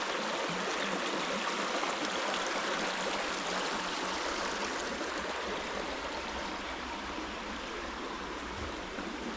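Steady rushing of a forest stream flowing over rocks, a continuous broad wash of water noise with no voices.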